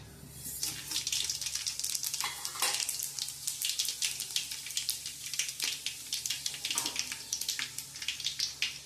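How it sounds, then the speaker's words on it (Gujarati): Whole spices including star anise, cloves, mace, mustard seeds, cumin, bay leaf and cinnamon fry in hot oil for undhiyu, giving a close, busy crackle of rapid popping bursts that continues steadily without speech. "તેલ આવી ગયું છે, આમાં આપણે બધા ખડા મસાલા લીધા છે, બાદિયા, લવિંગ, જાવંત્રી, રાઈ, જીરું, પાન, તજ"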